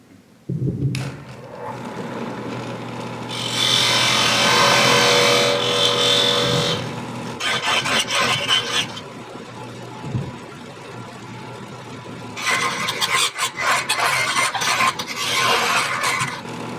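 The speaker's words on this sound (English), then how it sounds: "I've got a hole in there, and what I'm doing is I'm cutting in" A woodturning gouge cuts into a spinning wooden Christmas ornament on a lathe, making loud, rasping scrapes in two long bursts separated by quieter grinding and a steady low hum from the machine. No one speaks.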